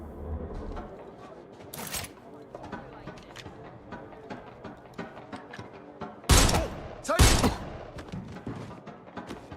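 Gunfire in a street shootout in the open-world game Watch Dogs Legion, with scattered thuds and a few sharp, loud shots bursting out near the end over a busy background.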